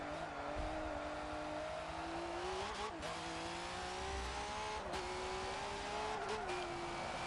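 V8 Supercars race at Circuit of the Americas in Forza 7, engines droning and shifting continuously, with brief squeals and revs as the cars push through the lap.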